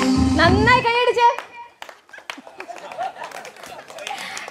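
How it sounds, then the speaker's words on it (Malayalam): Hand clapping from an audience at a charity community gathering's musical pass-the-cloth game, following a brief burst of music and voice; scattered, uneven claps continue with some children's chatter in the background. "നല്ല കൈയടി കൊടുത്തേ, നല്ല കൈയടി കൊടുത്തേ."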